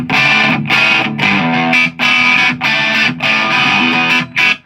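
Heavily distorted electric guitar chords strummed in loud bursts with short gaps, a thick, fuzzy high-gain amp tone, with no voices.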